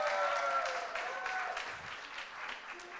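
Audience applause filling a conference session hall, a steady wash of many hands clapping at fairly even loudness for about three seconds, easing off slightly toward the end, with no voices over it.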